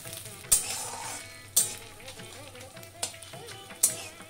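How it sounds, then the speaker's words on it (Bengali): Chopped coconut frying in a pan with hing for a vegetarian Bengali chana dal, a soft continuous sizzle broken by four crisp stirring scrapes, heard close up with no voices. "নারকেলটা অল্প অল্প ভাজা ভাজা হয়ে আসবে"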